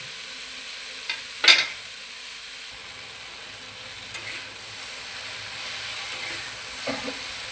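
Okra fries uncovered over a low gas flame with a soft, even sizzling hiss. A few brief clinks and stirring knocks stand out, and no one speaks.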